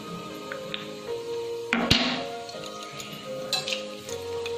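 Dried red chillies and whole garam masala sizzling in hot oil for a dhaba-style egg tadka, a close, steady fry with clinks of a utensil against the pan and a sudden louder burst of sizzle as spices drop in.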